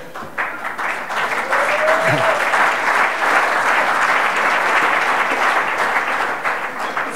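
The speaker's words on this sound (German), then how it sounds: "Applaus" Audience applause at a gala laudation, a steady, fairly loud wash of many hands clapping throughout, with a brief faint voice early on.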